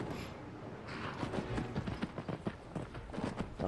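Horse hooves clip-clop in the Skyrim VR video game, a run of quick, uneven hoofbeats that sit fairly close under a steady wash of game ambience.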